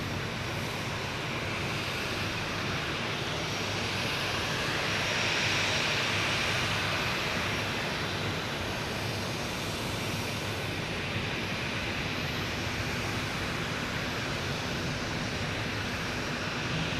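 A Lufthansa airliner's jet engines roar steadily through its takeoff run at Boston Logan, a continuous broadband rumble that stays loud and even with a slight swell near the middle.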